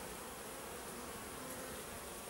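Honeybees on a late-autumn cleansing flight buzz around an apiary, a soft continuous hum of many insects, faint and even throughout.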